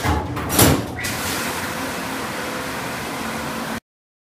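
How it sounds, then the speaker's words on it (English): Side doors of an Insinger commercial dishwasher in a dining facility kitchen slide shut with a brief knock, followed by a steady loud rushing hum of the running machine. "Close the doors."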